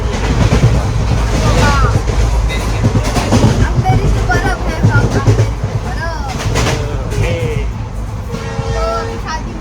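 Inside a moving train, a steady low rumble of carriage and track noise runs throughout, with people talking over it and a few bright tonal squeals near the end.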